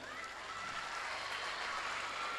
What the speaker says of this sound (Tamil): ஒரு பெரிய கைத்தட்டல் கொடுங்க